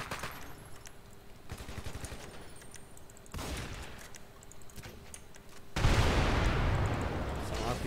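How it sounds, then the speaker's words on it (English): Weapon gunfire in GTA 5 with a modded sound pack, with repeated bursts of automatic fire and rattling shots, ending in a loud, roaring blast-like barrage. "So let's start shooting around."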